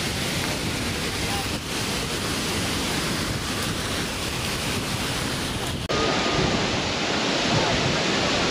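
Agaya Gangai waterfall in the Kolli Hills throws heavy spray, a dense continuous roar of falling water mixed with wind buffeting the microphone, loud and steady throughout.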